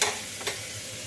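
Bitter gourd frying in a pan gives a continuous soft sizzle close by, with one short scrape of stirring partway through.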